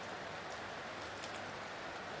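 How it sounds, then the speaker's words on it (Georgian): Rain falls as a faint, steady hiss of fine drops, an even wash of sound with no clear individual patters and no voices. "წვიმა."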